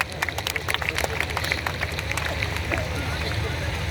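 Audience at a comedy laughter show breaks into clapping, a dense patter of many hands from a crowd, steady and fairly even throughout with a background of chatter and hubbub.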